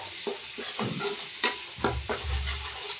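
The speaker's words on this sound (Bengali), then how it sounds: "দেখো বন্ধুরা, এই প্রায় কষা হয়ে গেছে আমার মশলাটা" Spice masala is sautéed in a pan, with a series of distinct spatula scrapes and knocks against the pan over a quiet sizzle, followed by a low rumbling stir. The sound is close, and no one speaks.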